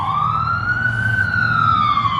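An ambulance siren wails, rising and falling steadily over a low engine rumble, loud and close, as it moves past.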